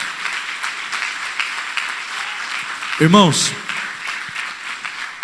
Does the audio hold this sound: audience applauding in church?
yes